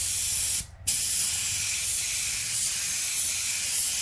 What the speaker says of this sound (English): I'm going to do a little bit of a spray on some cardboard